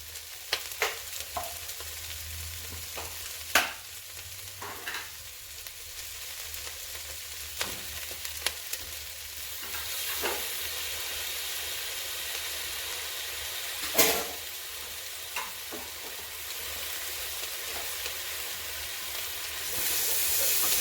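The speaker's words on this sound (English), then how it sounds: "I'm about to add roughly a tablespoon's worth of garlic into the pot." Garlic goes into a pot of frying onions, giving a soft steady sizzle with scattered sharp crackles and a few clinks, fairly quiet with no voices.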